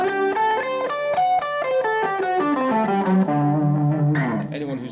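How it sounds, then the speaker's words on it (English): A guitar runs a quick melodic lick in D Mixolydian pentatonic, with clear, separate picked notes that step down into lower sustained tones near the end, played alone and close. "If I do the same thing again from D, I'll get D Mixolydian Pentatonic."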